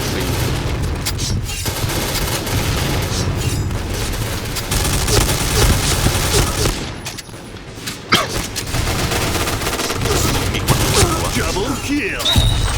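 A G36 rifle in the shooter game Point Blank fires in dense, sustained bursts with clattering reload mechanics. There is a short lull midway, a voice is heard now and then, and the overall sound is loud and busy.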